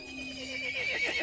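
Horse neighing in the video game Resident Evil Village, a single drawn-out whinny rising over a faint steady background tone, close and fairly quiet, with no talk.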